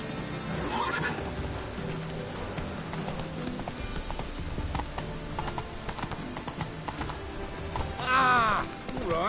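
Roach, the horse in The Witcher 3, trots with clopping hooves and gives a clear, loud neigh near the end, set against game music and ambience.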